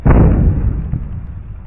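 A loud cartoon-style explosion sound effect from a Chinese word-association TV game show bursts out at once, then rumbles and fades over about two seconds, with no talking.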